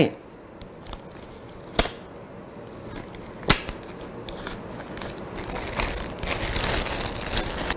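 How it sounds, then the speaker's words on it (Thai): A plastic bag for used COVID-19 antigen test kit items gives soft crinkles and a few sharp rustling snaps at close range, growing into busier crackling toward the end. "ทิ้งลงไปในถุงพลาสติกที่เราเตรียมไว้"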